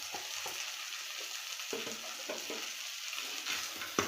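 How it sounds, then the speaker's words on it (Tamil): Curry masala and chilli powder get stirred into a mutton curry with broad beans and potatoes, bringing soft frying hiss and a series of distinct spoon scrapes and knocks against the pot, close and unhurried, ending in a sharper clack. "நல்லா மிக்ஸ் பண்ணி விட்டுக்கலாம்."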